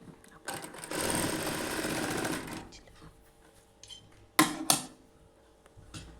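A sewing machine stitching a nighty runs in a fast steady burst for under two seconds, then stops, followed by a few sharp clicks and knocks of handling nearby.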